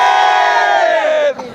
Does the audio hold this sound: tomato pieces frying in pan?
no